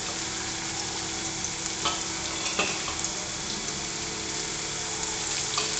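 Tomato frying in a pan in a home kitchen, giving a steady, close sizzle with light stirring scrapes and faint clinks throughout, no voices.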